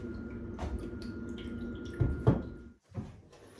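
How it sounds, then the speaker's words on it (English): Water is poured into a coffee machine's reservoir in a home kitchen: a splashy, close trickle with a couple of louder gushes, then a brief pause and a final splash. "I need to put some water in, and I'm going to put it in this before I put the milk in"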